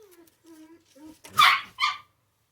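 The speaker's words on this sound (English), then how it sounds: "And the bark was the little dog, who doesn't like when the big dog whines." Indoors, a big dog gives a few thin, wavering whines, then a small dog answers with two sharp, loud barks close by, followed by silence.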